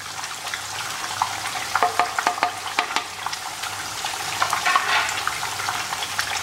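Spices and browned onions crackle and sizzle steadily in mustard oil for a Bengali fish masala, with a cluster of sharp spatters and a few stirring scrapes breaking through the continuous frying hiss.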